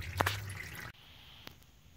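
Transmission fluid from a Ram 68RFE transmission pan drips into a plastic drip pan, with a wet splash and trickle early on, then a single clear drip later against a quiet background.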